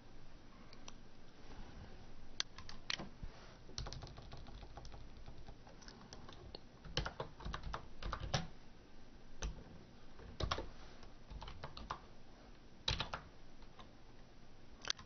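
Computer keyboard typing while data is entered into Avery Design Pro label software, with quiet irregular bursts of light key clicks separated by short pauses, close and faint, with no voices.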